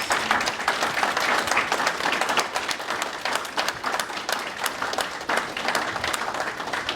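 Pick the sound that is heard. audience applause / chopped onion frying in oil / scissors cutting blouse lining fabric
audience applause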